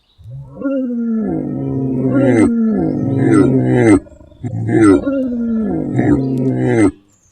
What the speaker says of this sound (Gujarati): એ જ સમયે સિંહની ગર્જના સંભળાઈ.